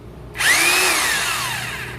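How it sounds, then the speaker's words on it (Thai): A Makita hammer drill set to concrete drilling mode spins up sharply and runs steadily at close range, its motor whine holding high before slowly easing in pitch, with no talk over it. "อันนี้คือเจาะปูนนะพี่นะ"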